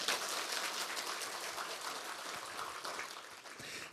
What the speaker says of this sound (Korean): 여러분들을 위해서 박수.